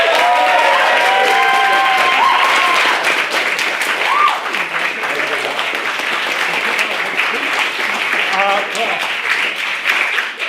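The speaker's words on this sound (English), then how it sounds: "Please welcome to the stage with enormous applause the winner of this year's Dufferin Prize" Loud, sustained applause from an audience greeting the Dufferin Prize winner onstage at a debating competition, continuing steadily throughout with whoops and crowd noise mixed in.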